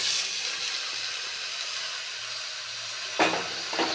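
Onions and chillies sauté in a pan for a dish of arai keerai kootu, giving a steady soft hiss heard close, with a couple of brief stirring scrapes toward the end.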